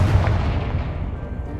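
A Confringo fire spell explodes in Hogwarts Legacy, one loud, dense blast with a rumbling low body that tails off gradually over about a second and a half, with no voices.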